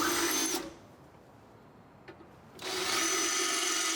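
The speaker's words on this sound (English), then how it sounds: "We drilled 2 outside holes that correspond to the mounting holes on one side of the compressor." Power drill boring holes for the compressor mounting of an Air Lift Load Lifter 5000 on a 2014 Chevy Silverado 1500, a loud steady whine that cuts off, leaves a quiet gap, then starts again.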